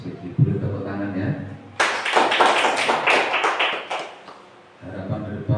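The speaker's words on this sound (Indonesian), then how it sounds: "Boleh tepuk tangan ya." Applause from an audience at a school presentation on positive culture, a short burst of clapping lasting a few seconds between stretches of a speaker's voice.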